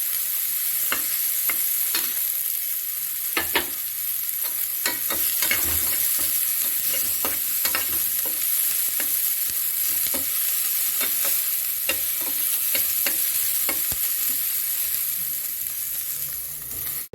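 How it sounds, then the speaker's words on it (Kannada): Masala ingredients fry in a pan for chicken donne biryani, giving a constant close sizzle broken by sharp scraping clicks of stirring, with no talk. "ಇದನ್ನು ಹೀಗೆ ಫ್ರೈ ಮಾಡ್ಕೋಬೇಕು, ಸ್ವಲ್ಪ ರೆಡ್ ಬರೋ ತನಕ."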